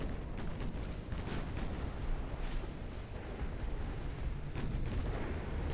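Ship ammunition detonation in the naval game Ultimate Admiral Dreadnoughts: a dense, continuous roar of booming blasts and crackling fire, sustained and heavy throughout without pause.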